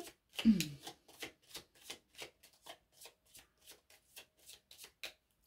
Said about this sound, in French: Je les mélange.